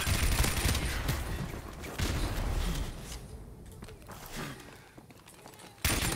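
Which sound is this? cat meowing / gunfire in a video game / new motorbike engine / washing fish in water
gunfire in a video game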